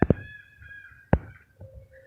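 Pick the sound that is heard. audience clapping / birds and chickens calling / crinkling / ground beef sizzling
birds and chickens calling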